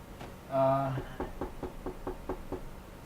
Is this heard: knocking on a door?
yes